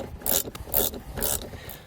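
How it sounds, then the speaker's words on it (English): A ratchet wrench clicks in four quick, close bursts while tightening a nut on a battery stud during trailer wiring work on a 2016 Ford Transit. "And don't forget to tighten back down the nut."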